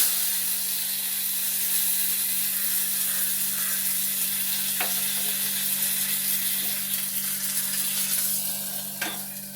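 Mustard and fenugreek seeds splutter in hot oil for Thalassery-style pulissery, a steady close sizzling hiss with occasional small crackles and pops.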